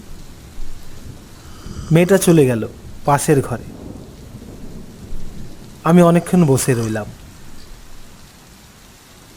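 Steady rain hisses with a low thunder-like rumble beneath it, continuous and moderately loud, while a voice narrates over it in two stretches.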